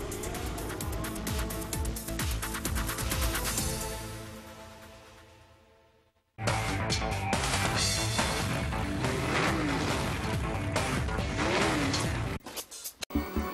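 GT race cars circling the Knockhill circuit in Scotland, engines roaring loudly past, one fading away before another bursts in close at full revs, then a sudden cut near the end.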